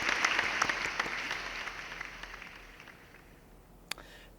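An audience at a university CAD/CAM design competition awards ceremony claps steadily for a fourth-place team, the applause fading gradually and ending with one sharp knock.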